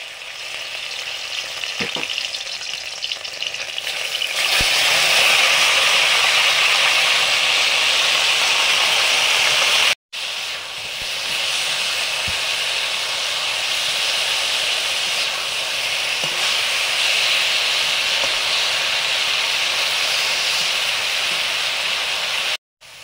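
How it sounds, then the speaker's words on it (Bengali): Pieces of elephant apple, first boiled with salt and turmeric, fry in mustard oil with a loud, dense, continuous sizzle close by. It breaks off abruptly for an instant partway through, then carries on at full strength. "চালতা ভাজা করব, সর্ষের তেল দিলাম।"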